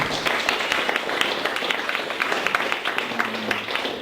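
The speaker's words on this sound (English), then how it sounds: "Let's give Terry Welty one last round of applause." An audience at a small business networking meetup applauds the speaker after a marketing talk, many hands clapping steadily and evenly at moderate volume, with a faint low hum underneath near the end.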